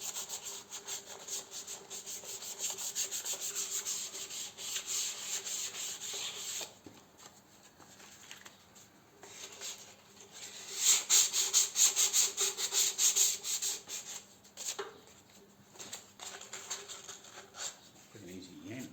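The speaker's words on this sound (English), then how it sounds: "Let's give it a light sand in this, at least" Light hand sanding on the fuel tank of a 1950 Triumph Thunderbird motorcycle during a repaint, a steady close scratchy rubbing in long continuous strokes with a few brief pauses.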